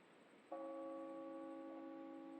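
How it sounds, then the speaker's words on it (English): A single bell strikes after a short quiet lead-in and its clear, sustained tone rings on evenly with a slow decay, fairly loud and alone against a faint background hum, set at night in a horror fiction podcast. "the bells are ringing at Heart House"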